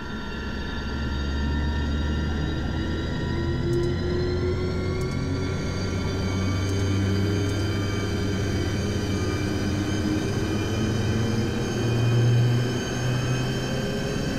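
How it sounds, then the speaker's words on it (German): A EuroCity passenger train pulls away in Train Simulator Classic, a steady low electric hum and rolling drone with faint whining tones, continuous and even, with no voices. "Gleis 4, Eurocity 104 nach Prag fährt ab."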